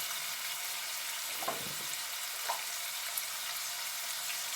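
Chana dal curry ingredients frying in oil with a little salt, a soft continuous hiss of sizzling under a quiet room, with a couple of faint utensil taps.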